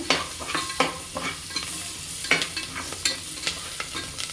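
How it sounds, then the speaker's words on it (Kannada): Country onions frying in an oil pan for a goat intestine gravy, a steady close sizzle broken by sharp scraping stirs of a spoon against the pan, repeated at irregular intervals with no talking. "ನಾಟಿ ಈರುಳ್ಳಿ ಹಾಕ್ತಾಯಿದ್ದೀನಿ. ಸ್ವಲ್ಪ ಫ್ರೈ ಮಾಡ್ಕೊಳ್ಳೋಣ."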